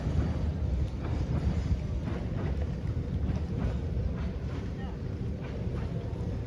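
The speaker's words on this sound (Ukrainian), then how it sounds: "трамвай йде" Tram rolling past in a street near a flea market in Kryvyi Rih, a steady low rumble and rattle under wind buffeting the microphone, with people talking nearby.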